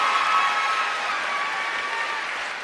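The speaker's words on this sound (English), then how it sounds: "Just give them both a round of applause." Audience applause filling a room after two volunteers are called up at a success-strategies talk, a dense steady wash of clapping sustained throughout and slowly tapering toward the end, with no voices over it.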